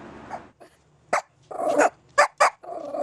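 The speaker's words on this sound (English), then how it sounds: "One bark a second, 60 seconds a minute" A small dog barks in uneven bursts, with sharp close barks and rougher growly yaps mixed in, loud and persistent with short gaps between them.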